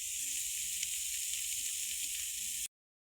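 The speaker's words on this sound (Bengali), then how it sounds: "আমি এটাকে তেলে ভেজে দিচ্ছি।" Bharta ingredients fry in a shallow amount of oil, giving a steady, close, dense sizzle that holds evenly for over two seconds, then cuts off abruptly into silence.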